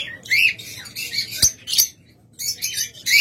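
Big-sized lovebirds kept as breeding pairs squawk in loud, harsh bursts, several birds calling in quick overlapping runs with short gaps, close by and with no talk over them.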